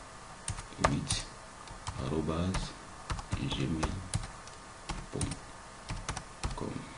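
Computer keyboard keys tapped in quick irregular bursts while an email address is typed, the clicks close and clear, with someone talking over much of the typing.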